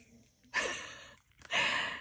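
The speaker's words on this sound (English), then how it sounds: "I didn't think she would be snoring that loud" Two slow, heavy breathy snores, each a long noisy inhale with a rough edge, separated by a quiet pause; close and fairly loud.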